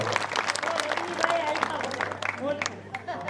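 An audience claps at a Gujarati village drama performance, a short burst of scattered hand claps at moderate distance, mixed with someone speaking over it.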